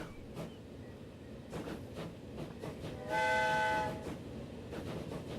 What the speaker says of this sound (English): we have our first train